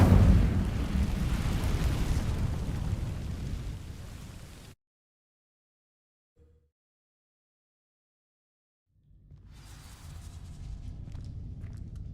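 A fire spell in a video game ignites dry vines with a rushing, roaring burst of flame that fades out over several seconds. A short silence follows before crackling, rumbling fire noise swells back up.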